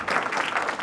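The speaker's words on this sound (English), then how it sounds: "If we can give them a round of applause." Brief audience applause at a presentation and panel on Maine prison education, a short, even burst of many hands clapping at moderate level.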